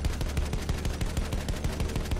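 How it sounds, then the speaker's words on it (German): Rapid gunfire in Battlefield 1, a World War I shooter, with shots cracking in a fast, steady rhythm across the whole stretch, loud and close, with no talking over it. "Oh, ich kann sogar schießen."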